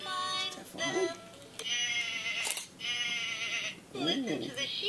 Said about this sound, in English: Listen to the sheep sing.